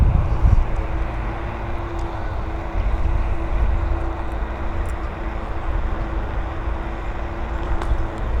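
Kukirin G3 Pro electric scooter, also sold as the Ausom Gallop and weighing 40 kilos, cruising steadily with a low constant motor hum, a faint whine and heavy wind rumble, no talk.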